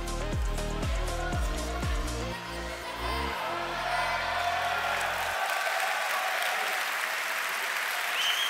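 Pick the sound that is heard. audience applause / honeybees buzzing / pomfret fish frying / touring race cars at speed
audience applause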